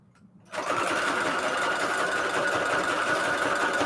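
A sewing machine stitches through paper scraps for junk journal pockets, starting abruptly after a brief quiet moment and then running as a steady, rapid, close mechanical whir.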